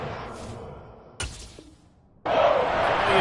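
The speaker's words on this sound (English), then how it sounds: "shouts from this crowd as they watch the replay" A stadium crowd at a Packers football game shouting as a disputed play is replayed, a roar that swells, drops off, then surges back loud and sustained.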